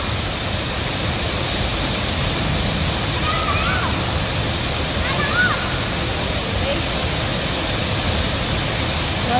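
A river rushes in a steady, loud roar of water with a constant broadband wash, and faint voices are barely audible beneath it.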